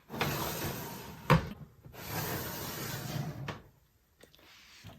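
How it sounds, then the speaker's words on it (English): A lip product storage drawer slides open and shut in a quiet room, with a sharp knock between two soft rolling slides and a faint rattle at the end. "Here's my lip drawer."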